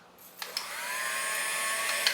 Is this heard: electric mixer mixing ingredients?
yes